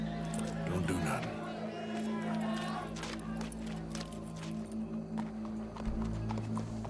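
Rhythmic clip-clop of horse hooves in the video game Red Dead Redemption under a steady hum, with scattered crowd chatter and voices in the background.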